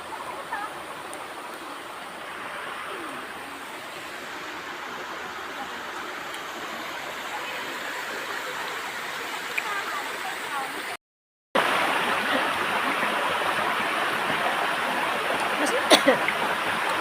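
Steady rush of river water flowing close by, loud and unbroken with only a brief dropout, near a subdivision where a child drinks from it; voices are faint in the background.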